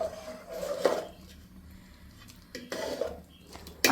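A spoon stirs shavige hesarubele payasa, a vermicelli and moong dal sweet, in a metal pot, scraping and clinking in three short bursts with quiet pauses between, close and fairly faint.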